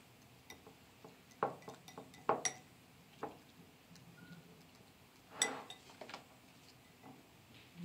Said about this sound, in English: So you just basically mix it up real good, stir it up.